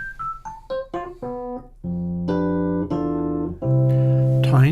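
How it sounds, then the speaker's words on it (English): A real Rhodes electric piano has its tines struck by hammers from underneath, giving bell-like notes close up. A falling run of single notes is followed by sustained, ringing chords. "a real one sounds like this"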